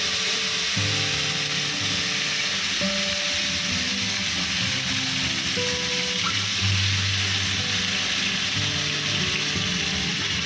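Meat for Bengali-style biryani sizzles and fries in a pot, a steady loud crackle with occasional scraping and stirring, no voices.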